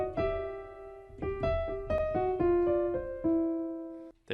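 Blues piano lick played alone: a run of bright, ringing single notes and short chords struck in a loose rhythm over about four seconds, close and clear with sustained decay between strikes.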